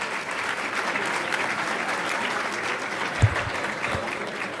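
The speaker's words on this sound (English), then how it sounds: "I think we should give them a round of applause" Audience applause at a business breakfast after a mayor's remarks, a steady sustained clapping wash from a sizeable crowd with one brief thump partway through.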